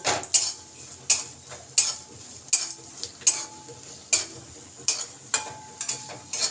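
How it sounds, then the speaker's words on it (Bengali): Cashew nuts fry lightly in oil in a pan, stirred with a utensil that clinks sharply against the metal about a dozen times in an uneven rhythm, with a soft sizzle underneath. "একটু কাজু বাদাম নিয়েছি, এটাও আমি একটু এই তেলের মধ্যে ভেজে নেব, হালকা করে ভেজে নেব।"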